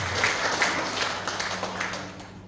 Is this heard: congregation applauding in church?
yes